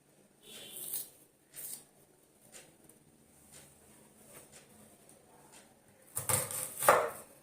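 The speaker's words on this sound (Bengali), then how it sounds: "দেখো পেঁয়াজটাকে আমি চার টুকরো করে নিলাম" A knife cuts an onion into four pieces on a board while homemade pizza is being prepared. A few sparse, close, sharp chopping strikes, with a louder cluster of hits near the end over a quiet background.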